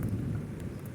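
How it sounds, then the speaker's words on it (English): Low thunder rumbles on through steady rain in the South San Juan Wilderness of Colorado at night by a small stick fire, a brief dull roll under soft rain hiss. "The thunder rolling around."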